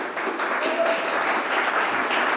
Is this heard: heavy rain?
no